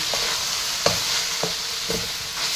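Vangi bath mixture being stirred and fried in a pan: a constant sizzle broken by several rhythmic scrapes of the spoon across the pan, close and fairly loud.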